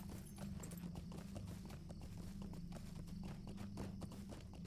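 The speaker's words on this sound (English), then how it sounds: "We're going to get on our horse for this." Horse hooves clip-clopping in Lord of the Rings Online, a quick steady rhythm of hoofbeats on the ground under a low background hum, moderately close and even in level.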